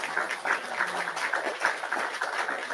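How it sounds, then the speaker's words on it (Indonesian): A small group applauds a guest named Diono during an online talk show, a faint, steady patter of clapping that sounds thin and distant. "Kita kasih tepuk tangan Diono ya"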